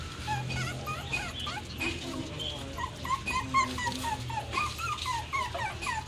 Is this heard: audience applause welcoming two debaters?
no